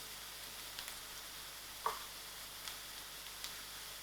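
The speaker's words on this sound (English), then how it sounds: "I'll allow these onions to fry till it's soft." Onions fry softly in hot oil with a cinnamon stick and bay leaf in the pan, giving a faint, steady sizzle broken by a few small pops.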